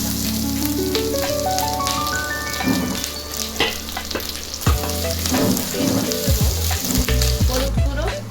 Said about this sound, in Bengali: জিরে ফোড়ন দেওয়ার পর এর মধ্যে দিয়ে দিলাম একটু আদা বাটা